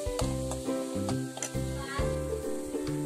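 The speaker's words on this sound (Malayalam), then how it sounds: "ഇനി ഇതിനകത്തോട്ട് നമ്മൾ പൊടിച്ചു വെച്ചിരുന്ന ബീട്രൂട്ടും ക്യാരറ്റും കൂടെ ചേർത്ത് നല്ലതുപോലെ ഇളക്കി കൊടുക്കണം" Grated beetroot and carrot are stirred in a hot pan, with soft sizzling and scraping strokes repeating at a steady pace under background music.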